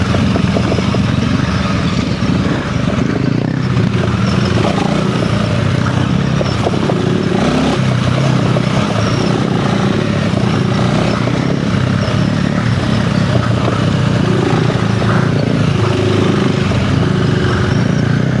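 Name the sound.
Honda CRF300L motorcycle riding off-road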